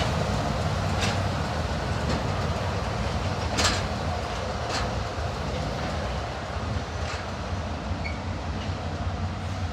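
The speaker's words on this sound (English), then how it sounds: "Here is my train back to Kidderminster, arriving into Bewdley" Class 57 diesel locomotive 57604 Pendennis Castle drawing a passenger train into Bewdley station on the Severn Valley Railway during a spring diesel festival, a steady loud rumble with a few sharp metallic clanks and squeals over about ten seconds.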